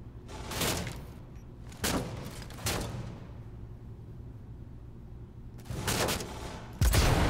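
Gunfire in the video game Cyberpunk 2077: several loud broadband bursts of shots, spaced apart with quieter stretches between, the last volley sharp and close at the end; no talking.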